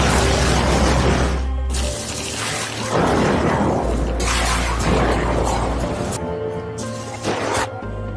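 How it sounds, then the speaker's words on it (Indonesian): A film scene with an oil drum belonging to Taliban fighters blown up by sniper fire: a dense, loud roar of blast and debris with deep rumbling, layered with crashing bursts and dramatic soundtrack. "tim sniper yang sudah berada di posisinya mulai membidik dan meledakkan sebuah drum minyak milik pasukan Taliban"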